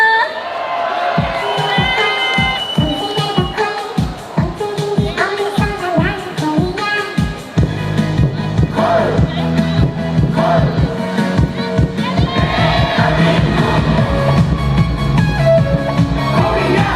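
A concert crowd at the Hongcheon beer festival cheers and applauds loudly at an outdoor stage. Whoops and shouts swell over a thumping beat and continue as dense, sustained crowd noise.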